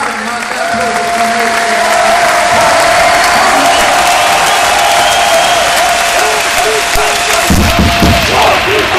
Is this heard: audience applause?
yes